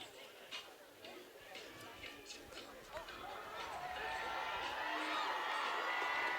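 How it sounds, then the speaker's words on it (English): Crowd at a women's field hockey match in Cromwell, New Zealand, the Black Sticks against Japan, a low murmur of spectators that swells louder and fuller toward the end, with scattered voices mixed in. "There's the crowd starting to get into it"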